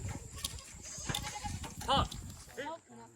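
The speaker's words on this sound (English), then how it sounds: "Yes, the goat." A farm goat bleats in a couple of short wavering cries near the end, mixed with people talking and shuffling noises close by.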